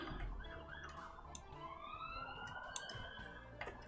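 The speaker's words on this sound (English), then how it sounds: "Sorry about the sirens, guys." Police sirens wail outside at a distance, a faint rising and falling tone running under nearby clicking sounds.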